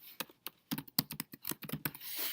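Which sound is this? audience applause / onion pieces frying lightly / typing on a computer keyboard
typing on a computer keyboard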